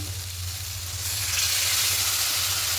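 Water from soaked peas goes into a hot pan for vegetarian ghugni with potato and paneer. A close, steady sizzle swells into a louder hiss about a second in, over a low hum, with no voices.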